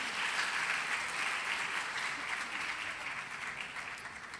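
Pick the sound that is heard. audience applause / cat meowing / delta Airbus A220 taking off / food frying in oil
audience applause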